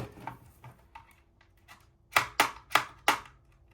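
Several sharp, scraping strokes close by as scissors scratch a diamond painting, four louder ones in quick succession after a few fainter scratches.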